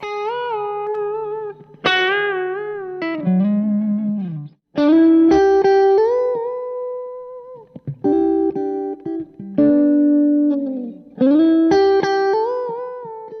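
Electric guitar played through a smooth, fat overdrive pedal over a clean tone, Strat-style, sounding as a series of sustained melodic notes and bends with short gaps between phrases, loud and alone.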